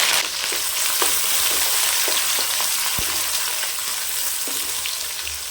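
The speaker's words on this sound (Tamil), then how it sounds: "எண்ணெய் சேர்த்துக்கலாம் கடுகு சேர்த்துக்கலாம் கூடவே உளுத்தம்பருப்பு சேர்த்துக்கலாம் கருவேப்பிலை சேர்த்துக்கலாம்" Mustard seeds, urad dal, curry leaves and both small and large onions fry in oil with a loud, dense, continuous sizzle, broken by occasional crackles and pops.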